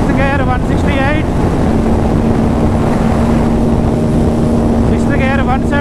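An Aprilia RS 457 motorcycle pulls hard at high speed through its upper gears, a steady engine drone buried under loud, constant wind rush, with brief bits of voice near the start and end.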